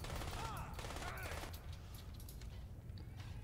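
Rapid automatic gunfire in the video game Crysis, a dense burst of shots that fades into a rumbling tail, with a voice talking briefly over the start.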